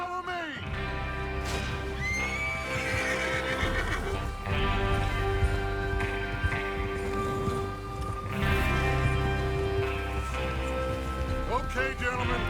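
Horses whinny and snort while hooves clop in Red Dead Redemption 2 as a gang of riders readies to move out, several neighs rising over rain and a soft music bed.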